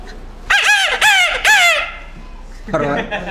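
A voice imitates a grey junglefowl call: three loud, quick rising-and-falling crows close together, then a shorter, lower crow after a pause.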